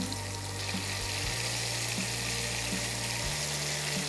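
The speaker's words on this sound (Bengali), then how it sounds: "চিংড়িটা বোধহয় হালকা ভাজবে তুমি?" Shrimp lightly frying in oil in a pan for a Bengali ash gourd ghonto, giving a steady, close sizzle that runs unbroken throughout with no talk over it.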